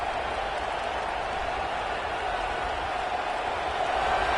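A stadium crowd at an American football game gives a steady, dense roar of cheering and applause that swells slightly toward the end.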